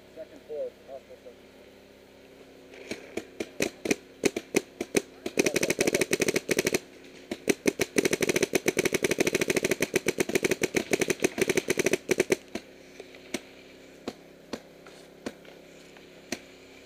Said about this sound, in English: You're in the middle of a firefight.